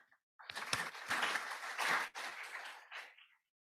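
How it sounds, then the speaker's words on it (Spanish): A university audience applauds four panel guests at a talk on artificial intelligence in higher education, a short, faint patter of clapping lasting about three seconds that fades out at the end. "Damos un aplausito."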